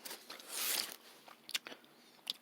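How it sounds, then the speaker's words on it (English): A stick of gum being chewed close to the mic, with soft wet crackles and clicks in an irregular rhythm after a brief rustle, faint and alone. "I'm chewing a stick of gum"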